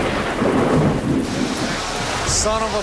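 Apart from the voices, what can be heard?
thunderstorm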